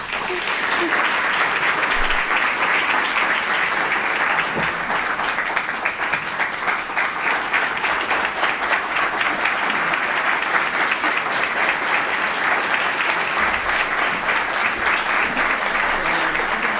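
An audience claps steadily and warmly at a prize presentation, sustained applause for the whole stretch.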